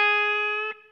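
A single sustained electric guitar note from a solo, bent slightly by about an eighth to a quarter step, ringing bright and steady with a soft pick-noise blip near the end before it fades.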